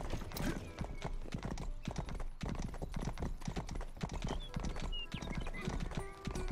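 Steady clip-clop of horse hooves at a brisk trot in the video game Rustler, loud and close, with game-like background sound and an occasional whinny.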